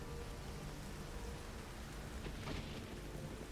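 Steady rain with a low rumble of distant thunder in a forest, a constant wash of noise with a faint swell around the middle.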